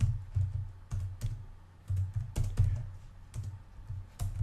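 Fingers tap on a computer keyboard in short, irregular bursts of crisp clicks, close and clear with brief pauses between runs and no talking.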